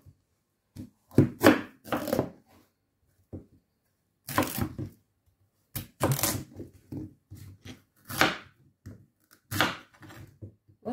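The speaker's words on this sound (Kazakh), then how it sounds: "енді тураймыз." Pumpkin is chopped with a knife on a board in irregular bursts of crisp, close cutting strokes, with short quiet gaps between the groups of cuts.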